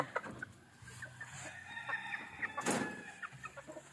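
Backyard chickens cluck close by in short, irregular bursts, with a brief crow and scattered farmyard noise in a quiet setting.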